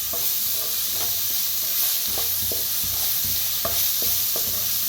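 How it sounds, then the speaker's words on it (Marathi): A spice paste with asafoetida roasts in a little oil for vada pav filling. There is a continuous close sizzle with repeated soft scraping and stirring knocks from a spoon against the pan. No speech. "आता भाजून घेऊया। हिंग टाकूया, आता भाजून घ्यायचा।"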